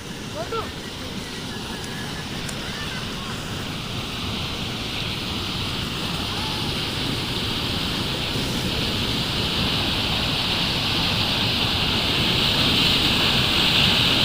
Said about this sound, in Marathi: मित्रांनो भेव लागते एवढा धबधबा आहे